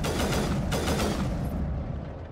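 Video game gunfire from Mass Effect rattles on continuously, dense and loud, with a couple of sharper bursts midway and no talking over it.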